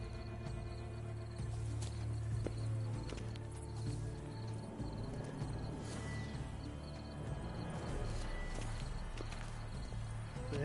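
Horse hooves clopping steadily with an occasional whinny in The Witcher 3 video game, set against dense game ambience and music.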